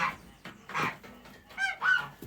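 A gander gives several nasal honks in short bursts, close and fairly quiet, with brief pauses between them.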